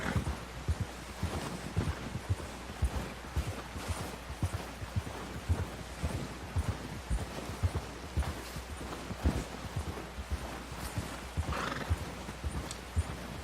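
A horse trudges through deep snow in the Red Dead Redemption II video game, with steady, heavy hoof thuds in an even walking rhythm, occasional neighing or snorting, and a constant soft wind-like hiss underneath, all fairly close.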